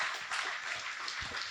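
An audience claps at a science lecture, a brief, moderately loud patter of many hands with no talk over it.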